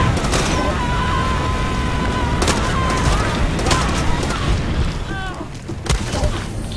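Gunfire in the Far Cry 2 video game, several sharp shots and booms scattered over a constant loud game background, with brief whistling tones between them and a voice speaking at times.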